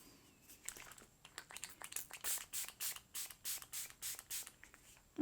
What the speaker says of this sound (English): I'm gonna quickly spray the face with Milk makeup on this side.